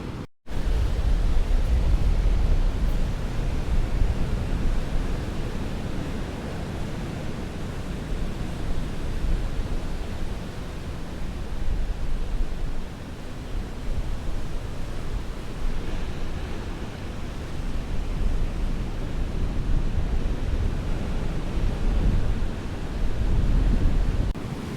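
Large, rough ocean surf pounding the shore at Ocean City, Maryland, a steady loud roar of breaking waves and rushing water with wind noise across the microphone, continuous throughout with no voices.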